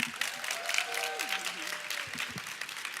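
Audience applause at a lecture in an annual lecture series, a steady wash of clapping lasting the whole three seconds at moderate level, with a faint tonal voice or whistle sliding underneath.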